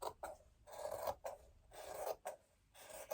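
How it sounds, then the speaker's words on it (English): Quiet rhythmic rasping as scissor blades slice through men's shirt fabric along a chalk line, four or five close strokes with brief pauses between them. "cut that with the scissors."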